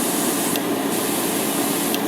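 Continuous hissing of a spray can or airbrush painting a 1/144 HG Gundam Barbatos model kit runs steadily throughout, close and fairly loud, with no pauses.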